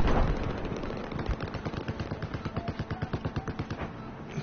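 Steady automatic weapon fire in Battlefield 4, a fast even string of loud shots that grows more distinct and rhythmic toward the end, with no talking.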